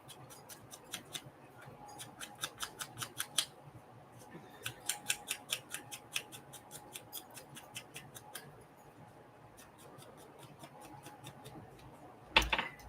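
Scissors fussy cutting paper for a mini lapbook, a long run of small crisp snips coming in quick bursts with short pauses between, close and fairly quiet, with a louder rustle at the very end.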